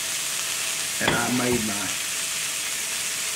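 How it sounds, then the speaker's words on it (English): A burger patty sizzles in a pan previously used for cooking sausage, giving a steady soft frying hiss throughout while someone talks briefly midway. "I'm cooking mine in a pan that I cooked sausage in this morning"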